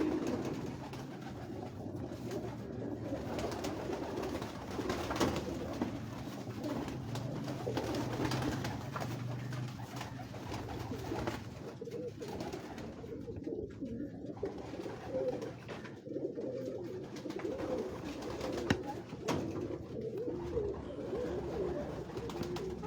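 Pigeons coo softly and repeatedly on a Lahore rooftop in low, throaty murmurs against a steady background hum, with several birds overlapping.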